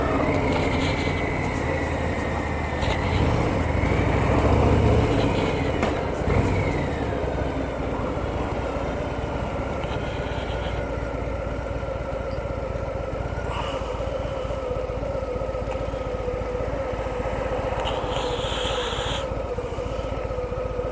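A 2025 Harley-Davidson Fat Boy rumbles steadily through Rochester on a test ride, its engine drone blending with constant road and wind roar, swelling slightly early on before holding an even, continuous level.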